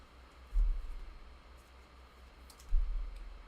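Two soft computer mouse clicks spaced a couple of seconds apart, close and faint over a low background hum, with no talk during them.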